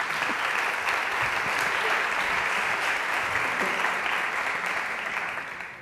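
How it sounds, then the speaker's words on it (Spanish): A large audience applauds for Eva at a 2019 education gathering on mentored projects, steady dense clapping filling the whole stretch before tapering slightly at the end. "Un aplauso, ¿no?,"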